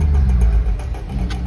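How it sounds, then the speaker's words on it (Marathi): A vehicle engine rumbles loud and close as it passes a roadside tea spot near quiet farmland, a continuous low drone filling the whole moment with no talking. "कसली गाडी गेली।"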